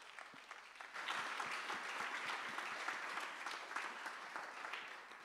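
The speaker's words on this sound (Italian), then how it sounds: "ancora applausi" Steady applause from an audience at an Italian literary award ceremony, dense clapping that rises after a quiet start and holds evenly throughout, fairly distant and without voices.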